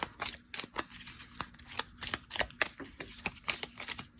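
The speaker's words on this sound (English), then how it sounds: "let's pull another oracle card" An oracle card deck is shuffled close by in quick riffling bursts of soft papery snaps, a rapid irregular rhythm of card flicks heard clearly with no talking.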